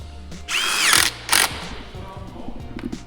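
A power drill fitted with a 10 mm socket drives a fastener on a Lexus RC F side splitter in two short whirring bursts, the first longer with a rising pitch and the second brief, followed by faint clicks and rattling.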